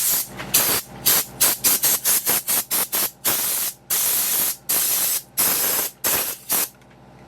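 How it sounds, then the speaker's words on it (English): Compressed air blasting parts of a hydraulic cylinder from a logging excavator, a rapid string of loud, close hissing bursts with short gaps between them, no speech. "We are gonna clean everything with compressed air today."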